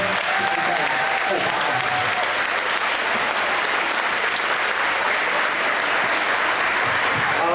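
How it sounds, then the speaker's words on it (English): An audience applauds a fourth-grade school chorus after a primary school concert, with steady, dense clapping that fills the room at a constant loud level from start to finish. "Let's give them one more round of applause before"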